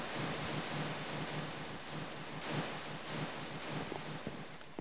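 Thunderstorm in the Minecraft video game, a steady wash of rain and wind with soft low rumbles of thunder, fairly faint and continuous, no talking.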